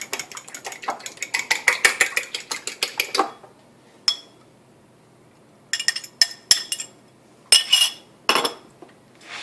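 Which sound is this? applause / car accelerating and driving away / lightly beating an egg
lightly beating an egg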